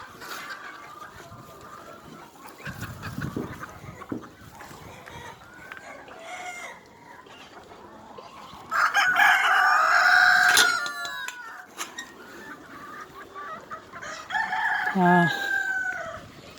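Flock of chickens on a desert livestock farm, with low scattered clucking that swells into two loud bursts of crowing and cackling midway and near the end, over faint background noise.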